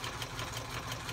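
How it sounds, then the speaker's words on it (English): A sewing machine runs a zigzag stitch across a playing card, giving a steady, quiet mechanical whirring with rapid rhythmic needle ticks in a brief burst. "So I am actually doing a zigzag stitch on my sewing machine down the playing card and across the playing card."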